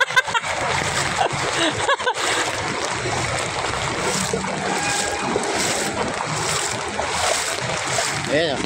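Typhoon Carina floodwater splashes and churns in a continuous loud rush, with wind buffeting the microphone and a sense of moving through deep water on a flooded street.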